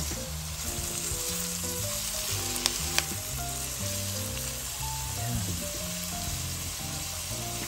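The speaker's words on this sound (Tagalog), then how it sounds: "Meron na po siyang puset, shrimp, mussels, and so on. Ayan po. So sautay po lang natin siya." Seafood mix of squid, shrimp and mussels sautéing in a pan for pancit canton, a loud continuous sizzle close by with a couple of sharp utensil clicks and light stirring, soft background music underneath.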